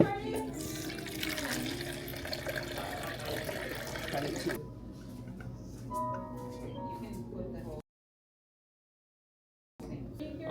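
Water pours steadily from a tap or jug into a bowl of yeast for gluten-free baguette dough, a running trickle under nearby talk before a brief silence.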